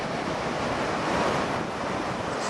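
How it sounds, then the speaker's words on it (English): Ocean waves at Seabright Beach in Aptos, a steady broadband wash of surf mixed with wind buffeting the microphone, continuous and fairly loud with no talk. "just look at the ocean"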